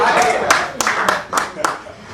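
Audience clapping at a poetry ball: a few distinct loud claps at roughly regular intervals, mixed with crowd noise and talk.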